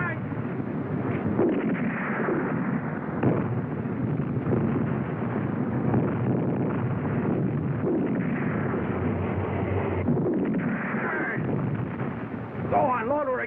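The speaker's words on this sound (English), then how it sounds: "Fire! Gonna hollow that tank!" Artillery fires at a tank in a battle scene at El Alamein, with heavy booming blasts and a rolling rumble mixed with windy noise and voices.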